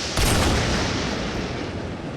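A single loud gunshot effect in a Fallout Equestria audiobook, a sharp boom that decays into a rumbling tail over about two seconds.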